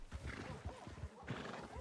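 A horse in a video game neighs and snorts while its hooves clop in a steady rhythm, moderately close and continuous through the short moment.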